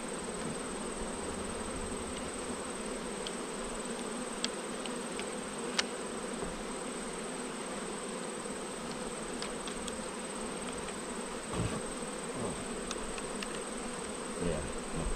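Honeybees buzzing around an opened hive during an inspection, a steady dense hum at moderate distance, continuous throughout, with occasional louder passes of single bees close by.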